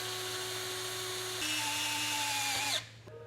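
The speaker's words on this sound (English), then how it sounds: "I'm going to take my self-tapping screw and just kind of drill it into the frame here" Power drill driving a self-tapping screw into a vehicle frame, a steady high whine that shifts pitch partway through as the screw bites, then stops abruptly, close and loud.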